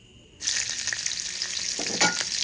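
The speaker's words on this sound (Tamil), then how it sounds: "இப்போது கடாயில் வந்து எண்ணெய் ஹீட் ஆகிட்டு இப்போ நாங்கள் குடமிளகாய் போட போகிறோம்." After a brief quiet moment, capsicum hits hot oil in a kadai with a loud burst of sizzling that keeps crackling steadily, with occasional stirring scrapes.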